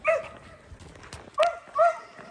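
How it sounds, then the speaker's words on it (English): A dog barks outdoors on a walking trail, three short sharp yips spaced across a couple of seconds, fairly close against light background noise. "That dog just treated that squirrel."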